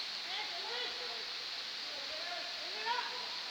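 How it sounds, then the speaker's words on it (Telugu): Kuntala waterfall roars as a steady, broadband rush of falling water, constant and fairly loud throughout, with a few faint voices drifting over it. "these are the water falls"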